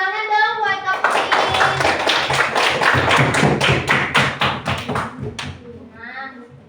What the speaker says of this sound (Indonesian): Tepuk tangan dong buat Kak Putri